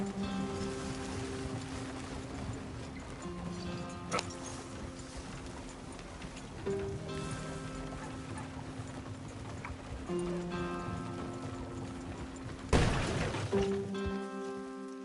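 Horse hooves in Red Dead Redemption 2, a steady clip-clop of trotting under game music, moderately close, with a sharper clatter near the end.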